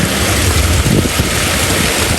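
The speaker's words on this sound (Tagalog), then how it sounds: "Nagpapapasok po si Bossing ng tubig" Seawater rushes into a crab trap on a small fishing boat, making a loud, constant broadband wash mixed with wind buffeting the microphone.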